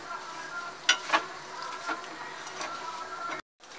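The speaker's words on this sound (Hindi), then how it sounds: "हम अपनी जो सेवैयाँ हैं इसे हल्का सा भून लेंगे।" Vermicelli (sewai) roasting in ghee in a pan over a full stove flame gives a steady light sizzle, with a few clinks of stirring, before cutting off abruptly near the end.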